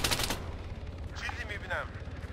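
Rapid gunfire in the ArmA 3 war game, fast repeated rifle shots rattling in a steady burst at moderate volume, with some higher tonal game sounds layered over the shooting.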